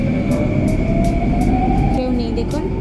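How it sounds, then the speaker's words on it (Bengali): A driverless metro train in Singapore runs with a steady loud rumble and a sustained electric whine, while a regular series of soft rhythmic clacks passes beneath the wheels. "মেট্রো কিন্তু বিনা চালকে চলছে"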